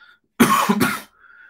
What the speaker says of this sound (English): I've got a little cough left over.